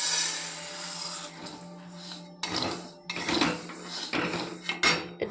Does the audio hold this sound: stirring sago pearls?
yes